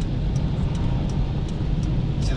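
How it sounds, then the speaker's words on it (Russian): A car's engine hums steadily inside the cabin as it speeds up during a driving lesson, a constant low road and motor drone heard from within. "Разгоняй машину."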